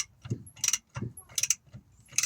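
Ratchet wrench tightening a bolt on a Peugeot 205 rear shock absorber, close, quick bursts of metallic clicking with short pauses between strokes.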